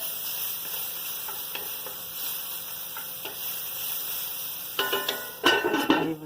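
Chunks of meat with peppers and onions sizzle steadily in a hot pan, a constant hiss punctuated by faint ticks, then louder clatter and scraping of stirring near the end.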